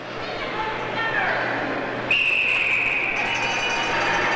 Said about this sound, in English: And the whistle blows.